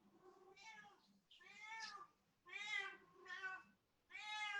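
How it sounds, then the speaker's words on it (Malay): Cat meowing repeatedly, four or five drawn-out meows in a row with short gaps, fairly faint and close, heard during an online design class with no talk over it. "Serabut aku kucing."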